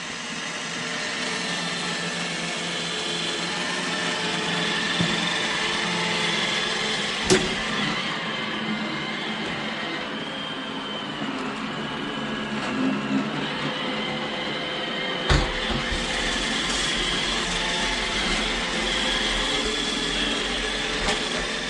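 An iRobot Roomba i7+ robot vacuum runs along a baseboard edge, giving a steady, close motor whir and brush hum with occasional soft bumps, with no talking.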